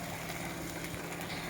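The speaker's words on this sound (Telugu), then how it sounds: "అదే మసాలా ఇందులో ఒకసారి మళ్ళీ ఫ్రై చేస్తున్నారు దీన్ని" Masala being fried a second time in a kadai for a gongura mutton and chicken curry, a steady close sizzle with faint scraping and a brief clatter at the very end.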